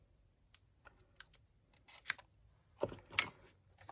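Scissors cut through a piece of paper card in a card-making session, giving several quiet, close snips and clicks spread unevenly over a few seconds with no talk.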